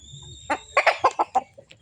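A pure 5K breed hen clucking up close, a quick run of about six sharp, loud clucks in a burst, followed by a faint trailing note.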